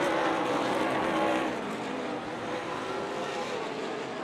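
ARCA Midwest Tour race cars lapping Rockford Speedway, a continuous roaring drone of engines that dips slightly midway, heard from a distance.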